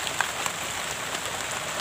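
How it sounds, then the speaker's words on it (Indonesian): Steady rain patters on a surface beside rice fields, a dense, even hiss with a few sharper drops, fairly loud and uninterrupted. "ini hari hujan sudah"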